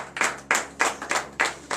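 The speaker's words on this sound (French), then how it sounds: "Donnez de vive acclamation à notre Seigneur." Sharp, rhythmic handclaps ring out at a morning prayer service in Benin, about seven evenly spaced claps in under two seconds.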